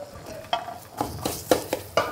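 A spoon scrapes and stirs semolina sheera with banana pieces roasting in a pan, making a run of close, uneven strokes with a soft sizzle underneath.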